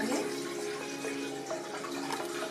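Water runs steadily into a cooking pan on a home kitchen stove, about half a jug being filled for boiling lentils for Pakistani khatti daal; a continuous close splashing stream with no talk.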